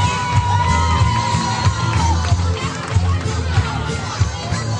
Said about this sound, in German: Und ein Applaus für den 6. Platz.